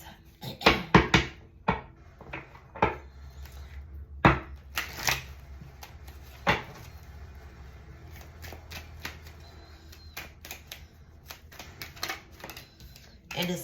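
Tarot cards being shuffled and handled in a series of sharp papery riffles and taps, loudest near the start and thinning out later, with no talking.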